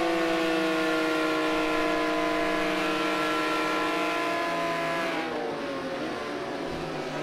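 Porsche 911 GT1 engine in Project Cars 2 droning at a steady high rev in a night race, layered harmonics holding loud and continuous, then shifting and dropping near the end as the car changes gear.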